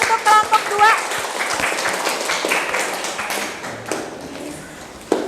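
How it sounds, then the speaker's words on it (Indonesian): Classroom applause for a student presentation group during a teaching practice session, a busy patter of claps running throughout with a speaking voice over the start and some tapping noise. "Berikan tepuk tangan untuk kelompok 2."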